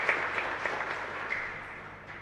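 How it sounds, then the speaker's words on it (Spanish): A congregation applauds during Mass in a chapel, a moderate wash of clapping that swells briefly at the start and then slowly fades toward the end. "Estimulémosle con este fuerte aplauso a ellos y un agradecimiento."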